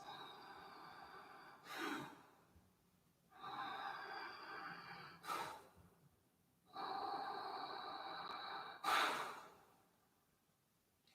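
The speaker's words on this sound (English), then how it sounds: "3 large Ujjayi breaths." Large Ujjayi yoga breaths during a morning wake-up stretch, three long, hissing, throat-constricted breaths spaced a few seconds apart, close and fairly quiet, with short sharp exhale bursts between them and no talk.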